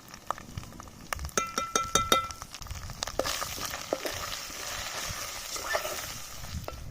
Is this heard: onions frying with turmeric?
yes